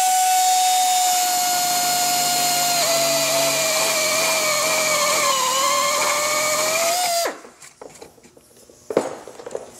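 Grinder cutting out a fender opening for a Witchdoctors Game Ender fender on a Victory Cross Country motorcycle, a loud sustained high whine with shifting pitch for about seven seconds, then stopping abruptly into quiet handling clatter.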